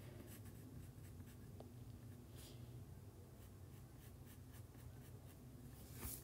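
Pencil scratching across paper while a cartoon-style game avatar is sketched, soft steady strokes close by but faint under a constant background hiss.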